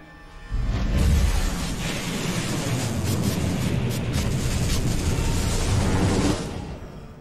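A Lightning Mage zaps an enemy in the Star Wars Force Unleashed video game, a loud, sustained crackling electric roar lasting several seconds before cutting off.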